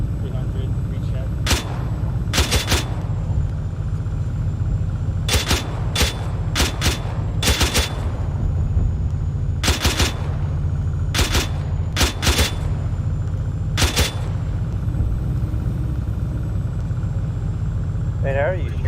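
Repeated gunfire in the military shooter game Arma 3, with sharp shots landing singly and in quick bursts across the clip over a steady low engine-like rumble.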